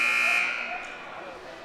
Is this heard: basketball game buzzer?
yes